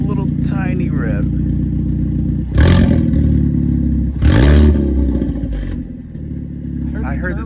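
A 2024 Hyundai Elantra N fitted with a Borla ATAK exhaust gives two short, loud revs close by, each rising and falling quickly over a steady idle rumble.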